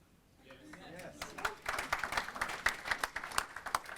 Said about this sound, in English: was that a round of applause for Fred?